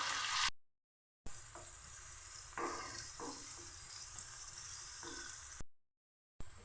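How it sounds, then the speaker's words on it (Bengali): Chopped onion, garlic, ginger and green chili fry in hot oil with a steady close sizzle and occasional stirring scrapes, broken by two brief silent gaps. "সবগুলোকে আমি লাল করে ভেজে নেব"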